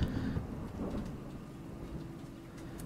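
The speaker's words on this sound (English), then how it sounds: "It's hitting my fake plastic windows loudly." Rain drums steadily on plastic windows outside, a continuous hissing patter with a slightly louder burst at the start, no voices.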